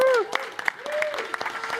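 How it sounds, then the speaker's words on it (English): Audience applause at a live conference show, broadband clapping filling the room as new guests are welcomed, with a voice sounding briefly over it at the start. "give a big round of applause to Felina and Jeffrey"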